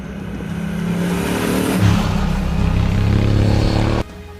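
A parallel-twin motorcycle engine with a 270-degree crank and Unicam four-valve heads accelerates smoothly. Its steady, building drone holds loud and close for about four seconds before cutting off abruptly.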